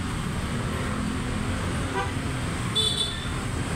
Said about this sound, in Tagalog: Dami-dami ng sasakyan talaga.